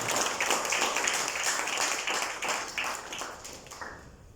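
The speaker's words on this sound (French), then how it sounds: "On peut vous applaudir notamment parce que vous avez un super travail." An audience applauds at a launch ceremony, steady dense clapping that is fairly faint and fades toward the end.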